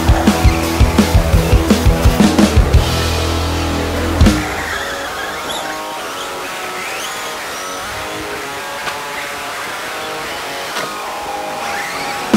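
RC short course 4x4 cars, including a Traxxas four-wheel drive, racing on a dirt track, with a burst of revving engine whine and tire skids early on, then a steadier, fainter whine of cars running farther off.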